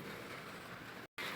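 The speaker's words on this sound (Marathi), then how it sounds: "तर आवाज देताना बघा बाहेरच्या पावसाचा आवाज तुम्हाला येत असेल." Rain falling outside on a March morning, a steady close hiss of dense drops continuing evenly, briefly cut to silence near the end before resuming.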